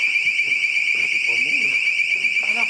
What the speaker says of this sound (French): un détecteur de mouvement se déclenche sans raison apparente